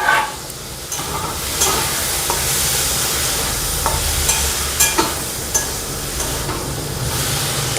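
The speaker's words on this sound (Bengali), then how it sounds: "এবার আমি আলু আর মটরশুঁটি দিয়ে দিলাম।" Potatoes and green peas sizzle and fry in a pan for Bengali-style ghugni, a steady close hiss broken by occasional stirring scrapes and clinks.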